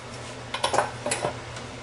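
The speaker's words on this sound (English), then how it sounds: "And we're just going to stir this all together." German chocolate cake frosting with vanilla and coconut being stirred in a bowl, a few short scraping clinks of a spoon against the dish over a low steady background.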